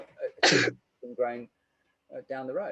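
A single short, sharp sneeze bursts out between stretches of someone talking, loud and close, during a spoken talk on nutrition.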